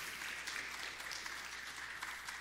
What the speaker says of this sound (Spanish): ¿Y por qué no le damos un aplauso a todos esos héroes en este día?